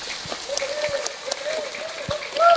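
An audience at an Indonesian religious gathering of Quran recitation and sholawat claps in scattered bursts that swell toward the end, while a voice talks over it.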